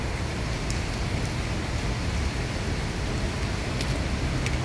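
Rain falling outdoors during a walk, a steady broadband hiss without pause, with faint passing-traffic rumble underneath.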